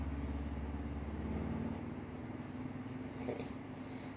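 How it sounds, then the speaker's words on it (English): A Harley motorcycle passes outside with a steady low engine rumble that swells and then eases off, heard from indoors at moderate distance; a voice is faintly present. "It's not even Sunday and he's out riding his Harley."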